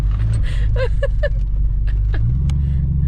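A Chevrolet Vega small-tire race car's engine runs with a deep, steady close rumble that shifts upward near the end, while a voice speaks briefly over it.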